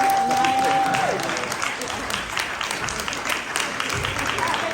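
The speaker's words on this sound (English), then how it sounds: "stand up so we can give you all small applause" Applause from an audience at a commemorative event honoring award winners, a broad steady clapping with a tone sounding briefly at the start and speech faintly mixed in.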